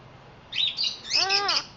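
A blue-naped parrot gives a few short, bright chirping calls close by, ending in a louder rising-and-falling whistle, with no talking.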